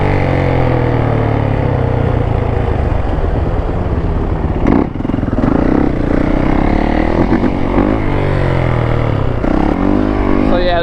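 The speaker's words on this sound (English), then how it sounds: "Try not to rev my bike." A 450 dirt bike engine revs hard and close, loud throughout with rising and falling pitch and a few sharp blips, while people talk over it.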